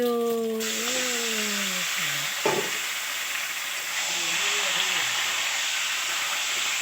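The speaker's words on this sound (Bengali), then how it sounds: "এই যে আমাদের পেস্টটা হয়ে গেছে, এবার দিয়ে দিয়েছি মাংস" Meat frying in a spice and onion paste in a pan, giving a loud, steady hissing sizzle throughout, with a voice talking over it at the start and a brief clatter midway.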